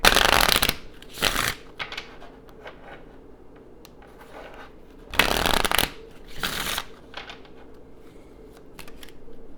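A Kipper fortune-telling card deck is shuffled in several loud riffling bursts, with quieter card handling and soft rustles between them and no voices.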